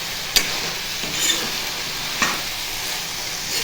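Salted vegetables fry in a pan for sabu pulao under a constant hiss, while a spoon stirs them with a handful of light scraping clicks.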